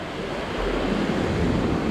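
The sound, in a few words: waves on a rocky beach in Cochin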